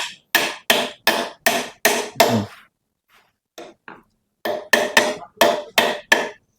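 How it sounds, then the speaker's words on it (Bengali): A water pump motor part for a 1 hp pump is driven into place with a run of sharp, evenly spaced hammer blows, about a dozen loud close strikes broken by a short pause and a few lighter taps. "হ্যাঁ বাড়ি দাও এটা আস্তে আস্তে"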